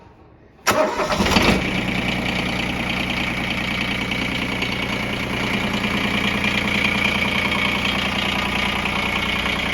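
A small Japanese diesel tractor engine with a glow plug cranks and catches after a brief pause, then settles into a steady, loud idle close by.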